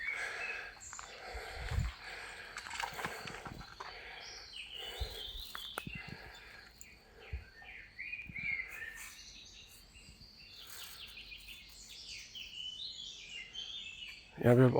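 Birds chirp and call softly in a valley in Germany during a morning walk, faint scattered tweets over quiet outdoor ambience, with someone talking over them and a louder burst at the end.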